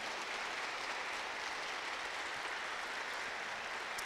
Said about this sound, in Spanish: Aplaudémosle al Señor